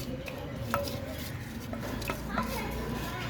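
A spoon stirs chicken biryani in a pot, with soft scraping and light clinks against the metal under a background hum while children talk nearby.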